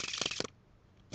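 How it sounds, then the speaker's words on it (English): A brief, crisp riffle of a new deck of Red Rider Back playing cards being shuffled up close, a quick burst of card flutter lasting under half a second before quiet. "so that's shuffling that way."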